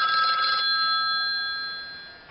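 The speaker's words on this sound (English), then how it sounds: "sorry, had a phone call" A telephone rings loud and close, a bright electronic bell tone that stops abruptly and leaves a fading hum behind it.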